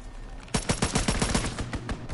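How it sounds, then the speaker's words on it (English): Strafing run gunfire in a first-person shooter video game: a rapid burst of heavy automatic fire starts abruptly after a brief quiet moment, then rattles on loud and continuous with sharp repeated impacts, with no talk. "Strafing run inbound."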